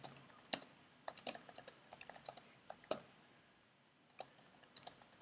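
Typing code on a computer keyboard: quiet, irregular clusters of sharp key clicks in short bursts with brief pauses, close and alone.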